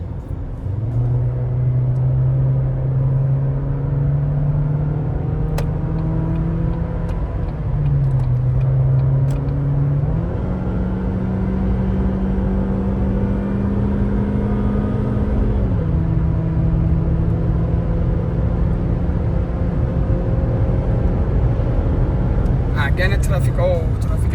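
Strong, steady engine drone of a car under hard throttle, pitch holding high with a few stepped shifts, loud and close throughout with speech over it.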